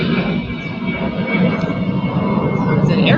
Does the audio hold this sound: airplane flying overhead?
yes